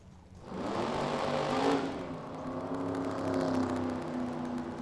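A 1962 Corvette and a 2003 Corvette launch side by side down a drag strip at a class racing revival, engines roaring in a loud, sustained wash that swells early and holds steady with revving and whirring throughout.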